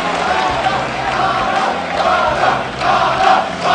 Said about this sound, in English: Crowd cheering on Bala right now.